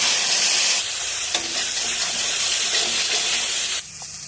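Onion, spices and turmeric fry hard in a pan with a loud, dense sizzle and light stirring, and the hiss drops down sharply near the end.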